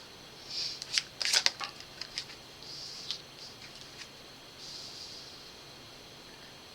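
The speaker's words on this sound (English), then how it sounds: "because it is quite a few cards that I'm going to be laying out here" Tarot cards handled and laid out one by one on a table, with faint soft slaps, flicks and papery scrapes in a quiet room, a short cluster of crisper snaps early on.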